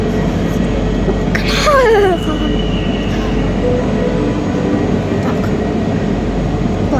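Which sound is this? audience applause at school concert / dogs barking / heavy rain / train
train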